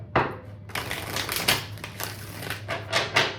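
A deck of tarot cards is shuffled close up, giving a run of crisp riffling rustles and sharp flicks in uneven bursts, with nobody talking.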